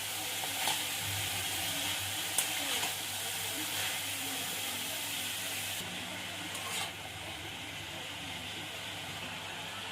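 Cabbage frying with fish head and potatoes in a pan, giving a soft steady sizzle and hiss with a few light clinks of stirring, heard fairly faint and close with no talk.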